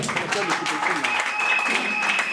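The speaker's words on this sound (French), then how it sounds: "Applaudissez ça." Audience at a political party's Women's Day celebration clapping, a short, even patter of many hands with talking mixed in throughout.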